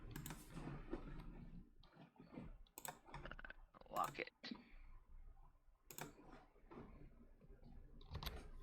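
Computer keyboard keys clatter and click in quick irregular bursts throughout, fairly close, while people talk and chat over and between the typing.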